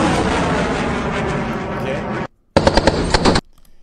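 MK-50 machine gun firing in sustained, dense, loud bursts. The roar runs for about two seconds, stops abruptly, then a second burst with sharp distinct reports follows before cutting off.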